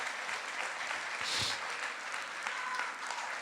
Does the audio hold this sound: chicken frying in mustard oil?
no